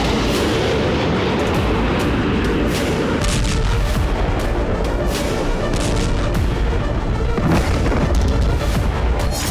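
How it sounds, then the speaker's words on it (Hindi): Heavy, continuous rumbling booms roll together with sharp blasts, loud and dense throughout, like distant explosions and artillery without pause, in Belgorod during the Russia-Ukraine war. "बेलगोरोद में फिर धमाके हो रहे हैं।"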